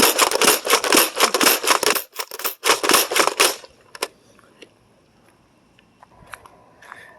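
An Adventure Force Conquest Pro toy blaster slam-fires foam darts in a rapid burst of sharp, loud snapping shots for about three and a half seconds, then falls quiet with a few faint clicks and distant taps.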